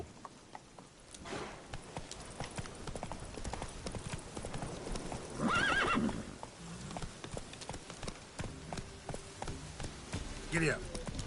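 Galloping hooves of a horse in The Witcher 3 video game pound in a fast, continuous rhythm, fairly close, with a louder rush midway and a short whinny-like burst near the end.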